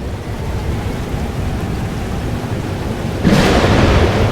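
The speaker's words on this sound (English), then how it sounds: "But there wasn't a storm the day Safi died." A thunderstorm from the video game Life is Strange: Double Exposure, with rain and low rumbling that breaks into a louder, sharper thunder crack near the end, and no one speaking.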